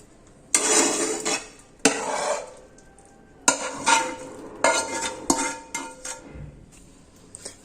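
Semolina appam batter mixed with sautéed vegetables, stirred in a metal bowl with a spoon: bursts of scraping and clinking strokes separated by short pauses, close and with no voices.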